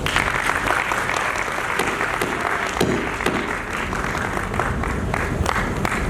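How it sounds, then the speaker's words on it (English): Loud, sustained applause from a large crowd at the Equinox 2023 evening event after a performance by a group of girls, a dense continuous roar of clapping hands that stays strong throughout. "A big round of applause for the girls."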